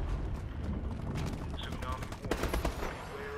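Rapid automatic gunfire from the Call of Duty Advanced Warfare video game, dense bursts of shots with mechanical clatter, continuous and fairly loud across the moment.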